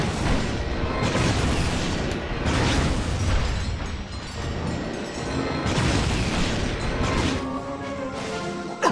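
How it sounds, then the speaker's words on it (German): In Ratchet and Clank: A Crack in Time, a charged weapon shot sets off a continuous barrage of booming explosions and crashing impacts, loud and dense, with rolling surges of blasts. "Ein aufgeladener Schuss und einer ist weg."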